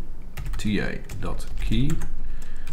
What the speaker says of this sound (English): we're going to do that by typing the command cp